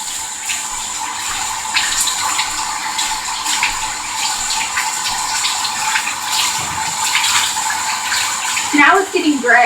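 Steady water runs into a bathtub for a hair dye rinse, a continuous hiss of tap flow and splashing, with a brief voice near the end.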